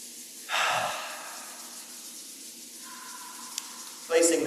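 Palms rubbed briskly together with audible breathing during a qigong practice, a short swishing burst near the start and another at the end over a quiet, steady background.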